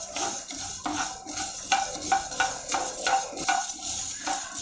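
Chana dal, urad dal and coriander seeds dry-roast in a pan, giving a quiet, dry rustle with a regular rhythm of stirring scrapes and light clinks, no talking.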